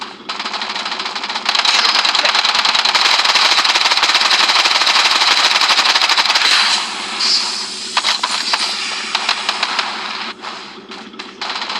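Sustained, loud automatic gunfire rattles in a fast continuous burst in the shooter game Blood Strike, then breaks into shorter scattered bursts and clicks, dense and close with no talk over it.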